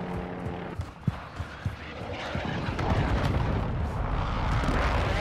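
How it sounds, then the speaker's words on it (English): Video-game airstrike explosions rumble and boom in a dense barrage, with sharp blasts early on building into a sustained heavy roar. "Friendly airstrike on the way."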